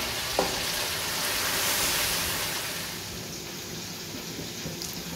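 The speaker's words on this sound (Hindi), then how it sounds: "उसके बाद इसको अच्छी तरह से भून लेंगे।" Chicken rezala ingredients with dried fenugreek fry in a pan with a steady, close sizzle that runs unbroken, with a faint brief clink near the start.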